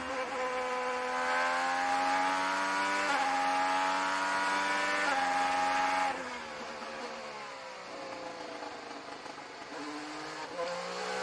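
An onboard IndyCar engine screams at high revs during practice for the 2024 Firestone Grand Prix of Monterey, loud and close. Its pitch climbs through the gears, then drops as the car brakes, and a voice speaks faintly beneath it.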